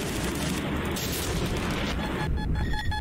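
Bombs exploding during a bombing mission in the video game Ravenfield: a continuous roaring rumble of blasts and heavy fire, fairly distant and steady, with no clear gaps between the detonations.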